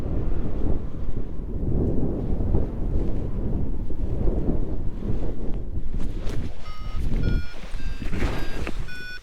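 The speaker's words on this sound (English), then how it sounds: "I ended up landing in quite strong wind that was coming down the hill" Strong wind blowing down a hillside buffets the microphone with heavy low rumbling gusts, and faint beeping tones come in near the end.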